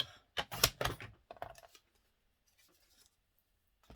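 Scissors cut paper for the inside cover of an album, with a few quick, close snips at the start and then faint rustling trailing into near silence.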